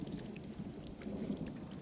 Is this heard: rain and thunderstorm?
yes